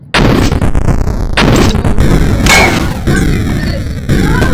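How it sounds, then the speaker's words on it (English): Grenade explosions in the video game Superfighters: a rapid run of loud, booming blasts that crowd together almost without pause, with a few sharper bursts standing out every second or so. "No, it's only nades."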